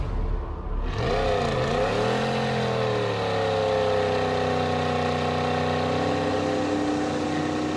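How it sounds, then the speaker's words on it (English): Pontiac Trans Am doing a second gear burnout, its engine roaring loudly and close, dipping briefly, then climbing into a sustained high, steady wail of revving that fills the clip. "All right, second gear burnout."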